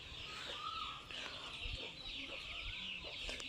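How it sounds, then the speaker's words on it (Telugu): Chickens cluck steadily outside a house yard in a village setting, several birds overlapping at close to mid range with a bright, continuous hum of insects or ambient noise beneath and a brief flutter of wings. "ఇక్కడ కోళ్ళు ఎన్ని ఉన్నాయో"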